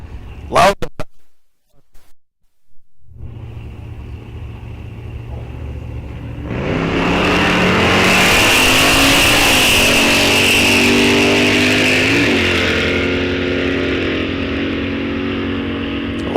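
Drag racing cars at Rock Falls Raceway's Fall-Out Drags launch down the strip: after a brief sharp burst and a quiet gap, engines drone low, then surge into a loud, sustained, roaring acceleration that slowly fades.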